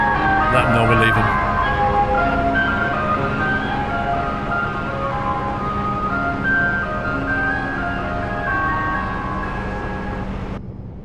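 An ice cream truck jingle plays in a trucking video game: a bright, repeating chiming melody rings loudly and continuously over a low engine drone, with brief talk near the start.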